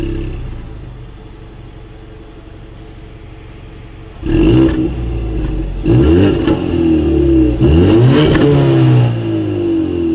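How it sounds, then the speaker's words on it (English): Ford Mustang with dual exhaust outlets and chrome tips revving: a low idle rumble, then three loud throttle blips that surge and fall back, each rising in pitch before dropping to idle, close and strong. "As always, here is that exhaust clip."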